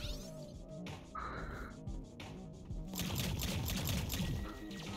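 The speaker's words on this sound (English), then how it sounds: "Bro threw a grenade at me." Grenade explosion and gunfire in a video game: a broad, crackling burst erupts after a quieter stretch with a faint tone, then a dense volley of sharp reports that runs loud to the end.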